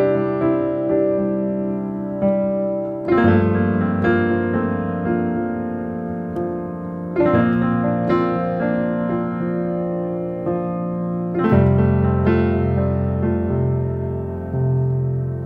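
Piano playing a simple power chord progression like the one used in a popular song: rich sustained chords with repeated arpeggiated notes, changing every few seconds, ringing full and close with no voices.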